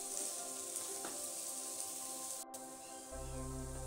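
Chopped bottle gourd and chana dal stirred into hot masala in a pan for lauki sabzi, giving a steady soft sizzle with faint scraping, quiet and continuous.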